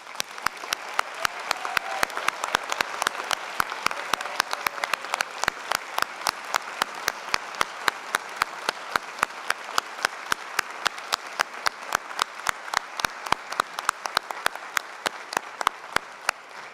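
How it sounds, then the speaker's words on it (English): A large audience applauds graduates at an afternoon university convocation ceremony, with dense, steady clapping that holds for the whole stretch and a faint murmur of the crowd beneath it. "Please join me in a warm round of applause for our graduates"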